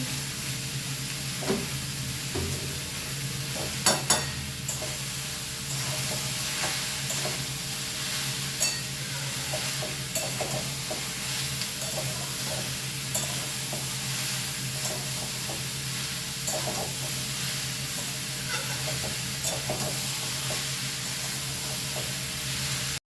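Ash gourd with turmeric and salt stir-fries in a pan, a soft continuous sizzle with intermittent spatula scrapes and light knocks against the pan, fairly quiet and without speech.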